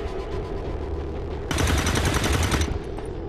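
A burst of overwatch gunfire from the video game XCOM 2 erupts midway, a dense rapid volley lasting about a second over steady game background noise.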